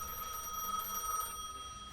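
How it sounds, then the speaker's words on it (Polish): A telephone rings in a video game, a steady electronic ringing tone that holds for over a second and then stops, with no talking over it. "Odbierz telefon."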